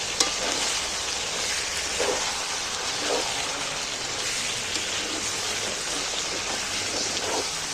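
Chicken fries in a pan with a continuous loud sizzle, and occasional soft scrapes come from stirring throughout.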